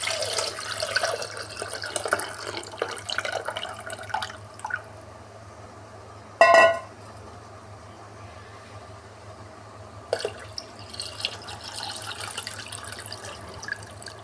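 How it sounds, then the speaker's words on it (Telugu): Tamarind water is poured into a pot for sambar, a soft splashing, trickling wash for several seconds, followed by a brief clatter and quieter dripping in a kitchen. "మనం చింతపండు నీళ్ళు కూడా వేసుకుందాం"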